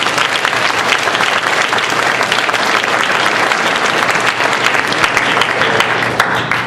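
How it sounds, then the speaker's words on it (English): Sustained applause from a large crowd, a dense, steady wash of clapping that holds at an even level throughout. "Please give them a round of applause."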